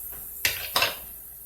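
Chopped vegetables are scraped into a pan of sausage on a stove, with two distinct metallic clanks of a utensil against the pan over a steady low background hiss, close and brief.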